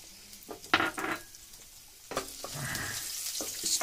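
Garlic cloves being fried in hot oil for a homemade pizza sauce, with soft bursts of sizzle and occasional stirring scrapes, close and moderately loud; no talking.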